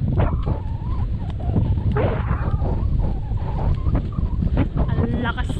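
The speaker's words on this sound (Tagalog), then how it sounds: "Ang lakas talaga ng hangin." Strong outdoor wind buffets the microphone in heavy, continuous low rumbling gusts, with people talking over it and scattered clatter in the background.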